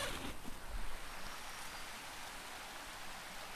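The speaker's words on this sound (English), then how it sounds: "It's Justice Creek running beside us." Justice Creek running beside a campsite on an old logging road along the Appalachian Trail in spring: a steady, close wash of flowing water, continuous and even throughout with no talk.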